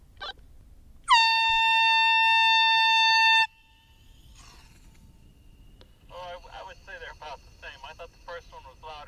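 A commercial compressed-air horn used for kayak fishing gives one loud, steady high-pitched blast lasting a couple of seconds, followed by quieter rustling and handling noise.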